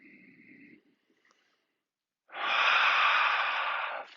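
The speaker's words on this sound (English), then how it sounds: "Last 2, breathe in. One more inhale." Deep breathing during a yoga practice: a soft breath at the start, a brief pause, then a long, loud, rushing exhale lasting nearly two seconds, close and alone without talk.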